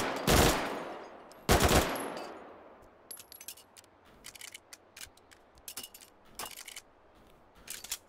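Full-auto gunfire in the VR shooter H3VR: two loud, short bursts close together near the start, then a scatter of lighter mechanical clicks and clacks from handling the weapon, with no talking.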